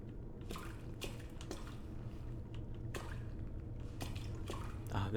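Water drips irregularly in the flooded police station of Resident Evil 2, faint separate plinks and taps over a low steady ambient hum.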